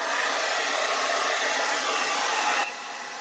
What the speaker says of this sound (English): that's just like a really quick kind of dash of hairdryer